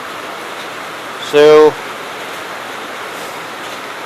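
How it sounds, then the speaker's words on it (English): Rain falls outdoors as a steady, even hiss while someone works on a 1974 Case 220 garden tractor; a single brief spoken word cuts in over it. "I'm sure you guys can hear the rain."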